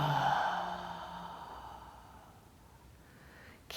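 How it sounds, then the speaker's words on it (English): A long, deep breathy exhale in a pregnancy yoga breathing exercise, audible and close at first, then fading gradually into quiet over a few seconds. "Exhale."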